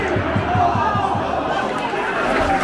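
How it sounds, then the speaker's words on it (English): A football crowd at an Ipswich league match roars and chants, with rhythmic rumbling beats and broad stadium noise at a steady, loud level. "the crowd are getting behind it"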